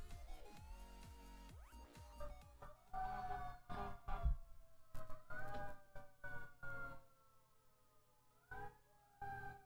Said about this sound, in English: There are like really loud sirens in the background.